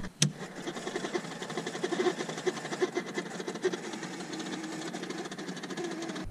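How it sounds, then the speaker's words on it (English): A quiet electric whirring with rapid mechanical buzzing and ticking, like power door locks cycling erratically, after a sharp click at the start. "the power locks are acting up"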